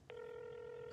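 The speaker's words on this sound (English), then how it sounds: "Is that a phone call?" A single sustained telephone tone sounds for nearly a second, clean and steady, followed by a short click at the end.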